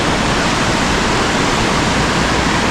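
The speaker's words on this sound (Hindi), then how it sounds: "दरिया बहुत जोर और शोर से जा रही है" A river in a quiet village rushes loudly and steadily, a dense, unbroken roar of fast-flowing water close by with no voices over it.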